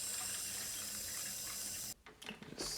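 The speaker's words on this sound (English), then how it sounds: "Let's put some water in the tank." Water runs from a tap as the water tank of a DeLonghi Magnifica coffee machine is filled, a steady hiss that breaks off near the end into a few gurgles and splashes.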